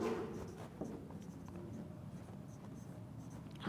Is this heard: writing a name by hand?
yes